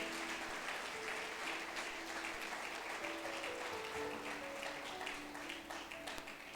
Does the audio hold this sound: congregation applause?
yes